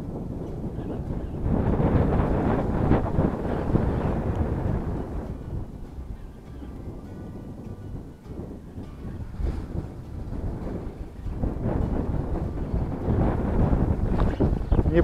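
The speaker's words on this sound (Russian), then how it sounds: "Ветер по сравнению с предыдущим днем значительно усилился, окреп" Strong wind buffets and roars against the microphone in heavy, continuous gusts that swell and ease over the whole stretch.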